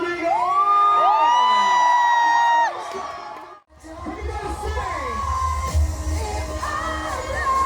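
A concert crowd cheers, whoops and shouts loudly at a live show, then the noise briefly drops out before the cheering resumes under a singing voice.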